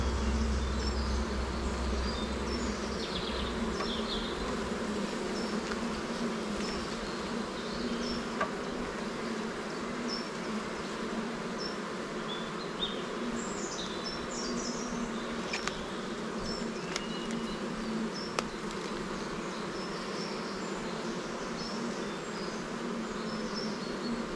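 Honeybees buzz continuously around an open beehive, forming a dense, steady drone close by with individual bees flying past now and then over the whole stretch.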